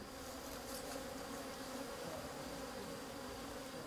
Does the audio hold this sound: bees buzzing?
yes